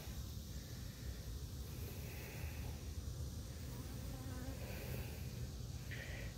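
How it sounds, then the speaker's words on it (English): A steady, dense hum of many honeybees buzzing close by at an open hive, continuous and even throughout with no voices. "These bees are being that calm"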